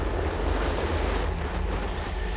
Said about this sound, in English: Facing high waves and strong winds, Captain Peter refuses to head out on the water.